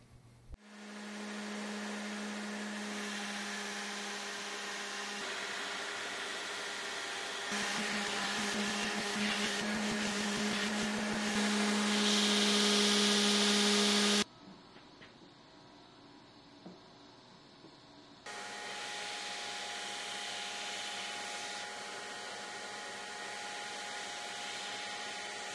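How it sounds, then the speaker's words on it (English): A belt grinder cleans up small forged mini hatchet heads, a loud continuous motor whine with steady tonal hum, rising in intensity as metal is pressed, pausing briefly before grinding resumes. "Now it's back to the grinder to clean them up."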